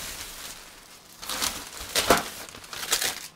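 Paper rustles and crinkles as a sheet is hunted for during an Easter drawing session, in several bursts of crackling handling that rise and fall, close up and alone.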